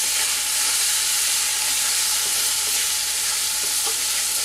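Coriander powder and other ground spices being stirred in a hot pan for restaurant-style shahi paneer, giving a loud, continuous, close-up sizzle and hiss with a faint scraping underneath and no voices.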